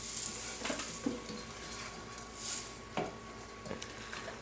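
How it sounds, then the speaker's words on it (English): Dry lentils poured into a pot for a vegetarian lentil stew, giving a soft rattling patter with a few sharper clinks against the pot over steady sizzling, close and moderately loud. "so now I'm going to add my lentils"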